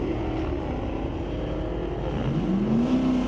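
A 2025 Chevrolet Corvette C8 E-Ray hybrid of around 600 horsepower accelerates down a drag strip, a steady engine roar with a rising whine toward the end, loud and continuous throughout.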